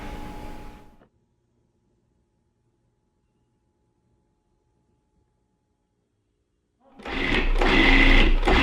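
A food processor pulses scone dough with egg yolks in two short whirring bursts, one brief at the start and a longer, louder one at the end, with near silence in between.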